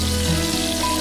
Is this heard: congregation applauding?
no